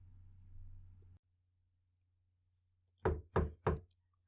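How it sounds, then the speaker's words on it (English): Three sharp, hollow knocks on a door in the video game Ethereal Enigma, evenly spaced and close, following a low hum that drops away into near silence. "A sharp knock on my door jerks me out of sleep."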